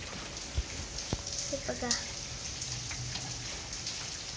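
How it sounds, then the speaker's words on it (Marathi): Heavy rain falling outdoors gives a steady, moderately distant hiss dotted with scattered drip ticks, while someone speaks briefly over it. "आता इतक्या जोराचा पाऊस सुरू आहे ना."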